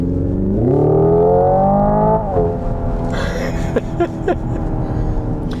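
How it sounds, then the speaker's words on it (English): The Hyundai Ioniq 5 N plays a synthetic engine note inside the electric car, a steady electronic drone that climbs in pitch, drops back and then holds. Sharp clicks and clatter break in near the end. "when I switch on the right side, I have the motor sound"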